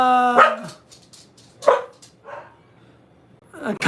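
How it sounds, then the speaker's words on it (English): Dogs bark at someone at the front door in a few sharp, close bursts separated by short pauses, with a yelping, whimpering edge to some calls. "I'm sorry, my dogs are losing their shit. Someone's at my door."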